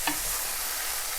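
Carrot rice mixture being stirred in a hot pan, a brief scrape and faint sizzle near at hand with steady frying hiss beneath, no voices.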